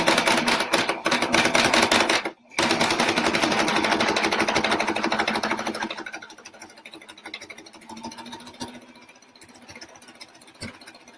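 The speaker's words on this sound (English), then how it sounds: "I'm going to chain stitch, so just keep going with my second one." Sewing machine chain stitching oven mitts in straight lines, a loud, fast, steady mechanical chatter that stops briefly, resumes, then slows and fades into softer intermittent stitching.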